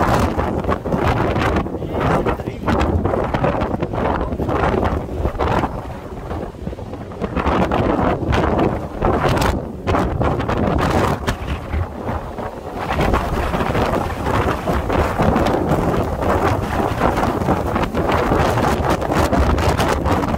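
Strong, gusty wind in Sokcho buffets the microphone with a loud, continuous roar that rises and falls in surges throughout, with no speech.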